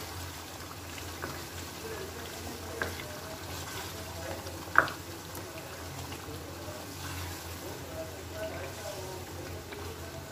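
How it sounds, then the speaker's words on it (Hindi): Beef karahi with a cup of yogurt stirred in sizzles and fries steadily in the pan, with soft crackling and a couple of sharp utensil clinks, a voice talking faintly in the background. "मुझे ग्रेवी चाहिए इसलिए मैं 1 कप योगर्ट ऐड करूँगी, देन इसको भून लूँगी"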